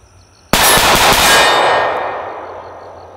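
An M17 pistol fires, a sudden loud, sharp crack followed by a couple of quick follow-up reports, all ringing out into a long decaying echo in an open range setting.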